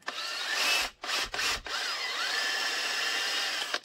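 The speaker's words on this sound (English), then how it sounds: "you have to drill it out because normal hardware won't fit" Power drill boring out a handgun part to fit optic mounting hardware, a loud steady high whine with two brief stops near the start before running continuously.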